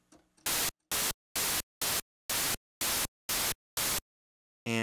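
A synthesizer plays a series of eight identical bright, noisy tones shaped by a filter envelope with a fast attack and full sustain, each starting abruptly at full level and stopping cleanly, evenly spaced and loud against silence.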